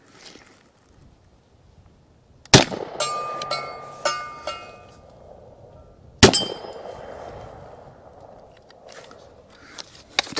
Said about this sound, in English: we're just gonna run this thing on some steel and see what it can actually do.